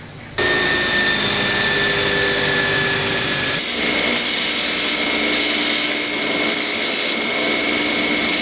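A belt sander grinds steadily against a metal turbo charge pipe, producing a loud, continuous abrasive rasp that shifts in pitch as pressure changes.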